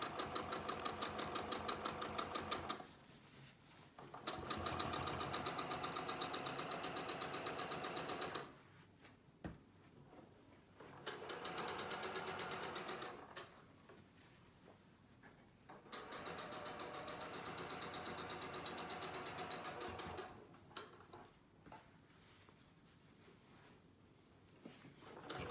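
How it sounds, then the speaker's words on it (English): Sewing machine stitching a gentle curved quarter-inch quilt seam, a close, rapid whirring hum in several long bursts separated by short pauses while pins are pulled and edges are kept even. "now that I've got my seam all sewn"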